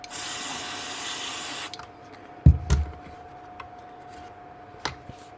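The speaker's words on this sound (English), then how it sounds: "Give it a good spray." A long hiss of contact cleaner spray into a DeWalt DCN660 nail gun, lasting nearly two seconds, followed by quiet handling thumps and clicks.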